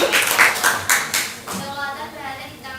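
Brief patter of classroom clapping for a student, a few scattered hand claps at close range mixed with children's voices, fading out after about a second and a half.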